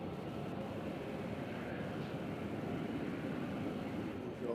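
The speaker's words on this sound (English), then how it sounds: "we have a Southwest on taxi" A Southwest airliner taxis at Louisville airport, its steady jet engine roar a continuous broadband rumble that holds even at moderate distance throughout.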